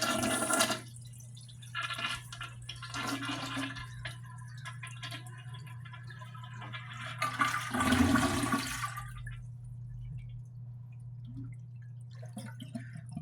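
A running toilet's tank is flushed and drained with a rush of water, followed by gurgling and trickling as it drains and refills over a steady low hum.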